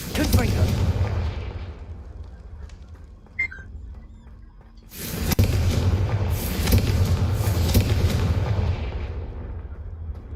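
A Confringo fire spell explodes in Hogwarts Legacy, starting as a low rumbling roar that dips briefly. Then a sudden heavy blast hits and its booming, crackling rumble rolls on loudly for several seconds.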